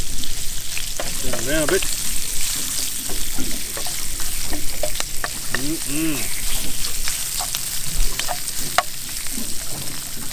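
Salt and pepper squid fries with a loud, continuous sizzle in a pan on a boat drifting at sea, with a few stirring clinks and someone speaking briefly over it.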